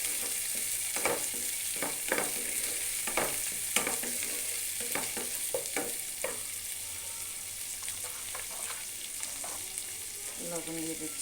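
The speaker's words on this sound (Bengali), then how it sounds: "চিংড়ি মাছটা দিয়ে দিচ্ছি, চিংড়ি মাছটা একটু এটার সাথে করে নিচ্ছি" Prawns frying with onions in a pan make a soft, continuous sizzle broken by a series of sharp spatula scrapes and taps, fairly quiet and without any talking.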